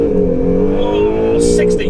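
A car launches hard and accelerates, its engine a loud, steady rising drone close up, with excited voices exclaiming over it toward the end.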